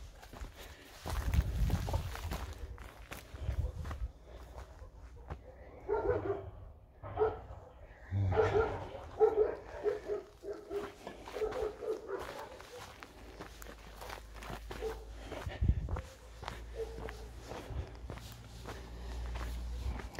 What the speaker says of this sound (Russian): Собаки в старом городе, вернее, не в старом городе, а во втором квартале тоже неприветливо.